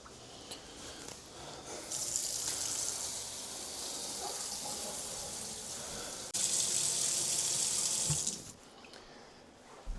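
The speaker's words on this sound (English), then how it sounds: "So I'm gonna turn a bunch of water on and wait till I smell it." Household taps run at full flow to flush bleach through the pipes, a steady hiss of gushing water that starts, briefly softens, then surges louder before cutting off.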